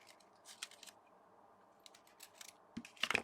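Card stock is trimmed along its side edge with a few soft, quick snips and light papery rustles close by, quiet and sparse, ending in a louder burst of cutting.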